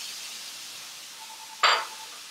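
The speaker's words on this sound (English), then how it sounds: "Next thing, you want to deglaze. One of our deglazers are teriyaki." Teriyaki sauce hits a hot pan of pepper steak, giving a single sudden sizzle that flares up and fades within half a second over a quiet kitchen hiss.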